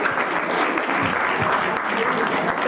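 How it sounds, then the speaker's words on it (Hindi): Audience applause at a school farewell party, a continuous even patter of many hands filling the room, with a brief spoken word from the speaker over the clapping. "उनके लिए भी तालियां बजा दो"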